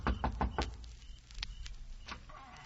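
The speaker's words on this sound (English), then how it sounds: "I kept knocking." Several sharp knocks on a door, an old time radio sound effect, rapping in a quick cluster at first and then in a few scattered raps.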